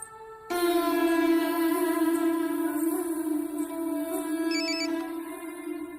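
A phone ringtone plays continuously and loudly, a steady melodic tone with bright harmonics, starting abruptly after a brief pause and continuing without talk.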